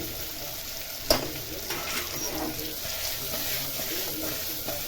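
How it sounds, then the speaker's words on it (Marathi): Spice masala roasts and is stirred in a pan alongside ridge gourd for a Satara-style curry, giving a soft, even sizzle with one sharp utensil knock early on and no talking. "व्यवस्थित भाजून घ्यायचं आहे मसाला"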